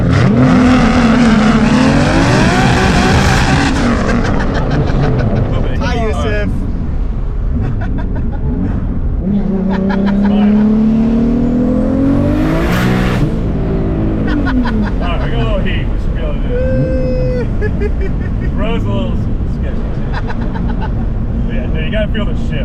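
A loud modified Lexus IS300 race car with a slipper clutch revs hard up and down, its engine note climbing and dropping through clunky gear shifts. A voice talks over it.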